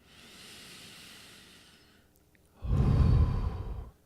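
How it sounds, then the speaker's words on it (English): A person breathes in and out during a counted breathing exercise: a soft, drawn-out inhale followed by a louder, rushing exhale close to the microphone. "I'll breathe in and out to the count of 2."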